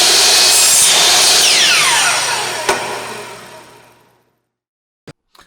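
A miter saw in a woodshop spins loudly at full speed, its whine steadily winding down to silence, followed by two short knocks near the end.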